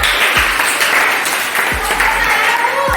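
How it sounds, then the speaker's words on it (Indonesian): A classroom of students applauds a classmate after a science lesson simulation, with steady, loud clapping throughout and a few low thumps underneath. "Beri tepuk tangan untuk teman kalian."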